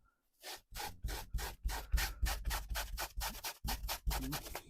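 A cotton fabric stain treated with a cleaning spray from Aliexpress is rubbed in quick, close rhythmic strokes, about fifteen scrubbing bursts with brief gaps, with no talk.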